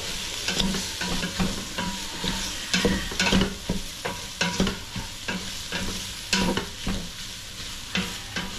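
Rhythmic stirring of pinapaitan, a Filipino offal stew, in a frying pan: a utensil scrapes the pan about twice a second over a constant sizzle, close and clear, with no talking.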